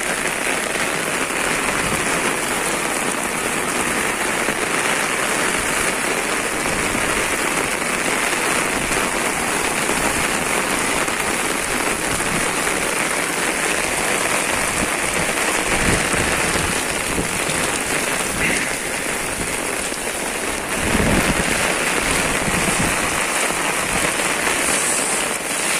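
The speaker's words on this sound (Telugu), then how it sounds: "చాలా వర్షం పడుతుంది మార్నింగ్ నుండి" Heavy rain pours steadily in Hyderabad, a dense continuous hiss of drops hitting the ground and road surfaces, loud and unbroken for the whole stretch, with a slightly heavier gust of spatter near the end.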